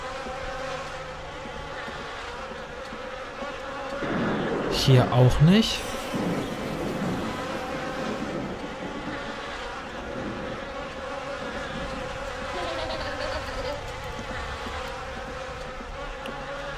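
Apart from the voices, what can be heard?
buzzing flies in The Nightfall video game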